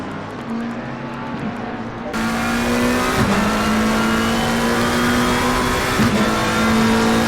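Race car engines at Snetterton in the racing game Assetto Corsa Competizione, British GT round, including a red McLaren, a loud steady high drone with rising revs and gear shifts, close up and continuous, with no talk.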